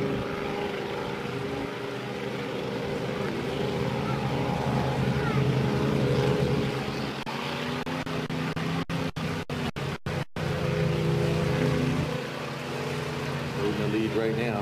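K Racing Runabout motorboats at a race in Geneva, NY idle and rumble with a continuous droning engine noise that swells and eases, with a voice faintly mixed in.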